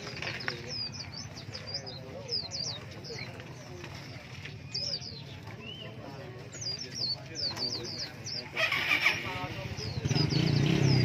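Red-whiskered bulbuls and other caged birds at a bird market give repeated quick chirps and whistled calls over a busy background, with people talking and a louder rumble near the end.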